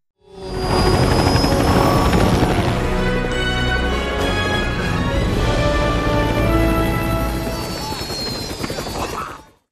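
A helicopter flies overhead in a film scene, its rotor chopping loud and close with a dense, pulsing thrum that holds steady before fading slightly at the end; no one speaks.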